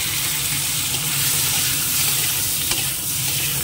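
Potatoes fry in a pan of oil with a dense, continuous sizzle, close and fairly loud, the crackle steady throughout with no voices.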